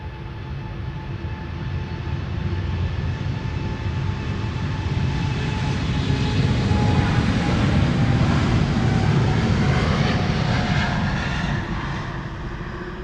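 A Turkish Airlines airliner's jet engines roar at Amsterdam Schiphol Airport, a loud sustained rumble with whining tones that swells and gradually shifts pitch as the aircraft moves.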